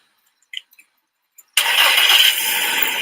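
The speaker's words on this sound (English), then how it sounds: "Just drive the car there." A car engine cranks and catches abruptly after a few faint clicks, then runs loud and steady at close range with a bright, hissy roar.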